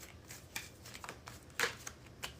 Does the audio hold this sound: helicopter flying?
no